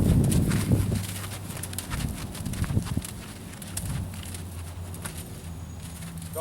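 A horse walks up toward a gate outdoors, hooves clip-clopping in a steady walking rhythm at close range, with wind and faint bird calls in the background.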